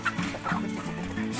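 Native hen clucking beside a nest where Rhode Island Red eggs lie, free-range chicken coop; a few close, repeated low clucks in a steady rhythm, with no talk.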